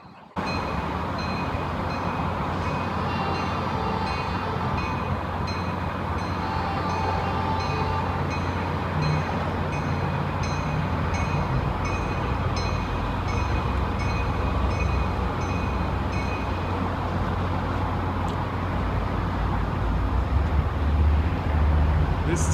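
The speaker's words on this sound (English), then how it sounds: "Can you see the train that's leaving the station right now?" A train leaving a station in Boston rolls slowly past with a steady low rumble and faint rail clatter.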